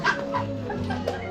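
Roosters cluck and crow and dogs bark and yip around a neighbourhood in Naga City, Philippines, the calls overlapping at a moderate distance over a steady low hum.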